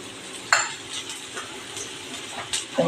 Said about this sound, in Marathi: आपण पहिलं धिरडं घालताना नेहमी छोटं घालायचं